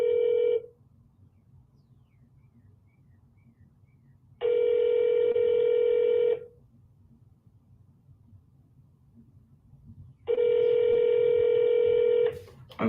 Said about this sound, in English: that's the longest dial tone I've ever experienced